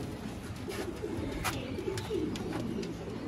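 Sialkoti pigeons coo softly in a steady, low rumbling stream, with a few brief chirps and flutters over continuous background noise and no talking.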